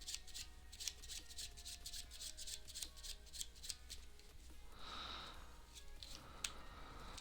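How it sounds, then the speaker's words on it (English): A deck of playing cards is shuffled in a quiet room, giving soft, faint riffling and rubbing bursts that come in a loose rhythm. "Gonna give these cards a shuffle."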